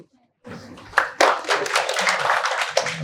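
An audience claps after an orientation session speech for a coaching batch, a burst of scattered applause starting abruptly and continuing steadily, with voices talking underneath.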